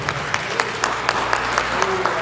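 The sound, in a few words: congregation applauding in church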